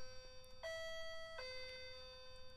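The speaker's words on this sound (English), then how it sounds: "It's actually the doorbell and it's probably Australia Post." A home doorbell rings with a two-tone ding-dong chime. The clear tones sound faint and slightly distant, with no talk over them.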